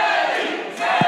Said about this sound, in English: Everyone's cheering for Teddy Hart.